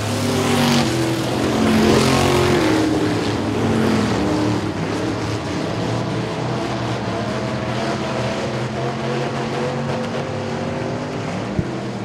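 Race cars roaring past on the Sabine Speedway oval during a regular race program, a loud engine pass swelling near the start and then a steady, dense drone of several cars circulating the track for the rest of the stretch.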